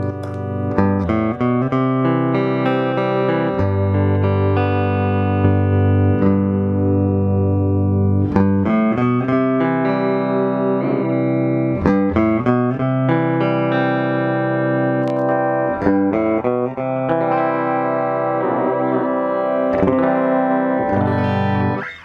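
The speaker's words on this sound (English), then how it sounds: "Here you start hearing more of the delay." Electric guitar played in chords and picked phrases through a Boss DD-7 delay pedal, a repeating slapback delay trailing each note, continuous and fairly loud with no voices.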